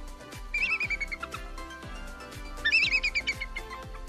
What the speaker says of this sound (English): Bald eagles make such silly sounds that Hollywood dubs their voices.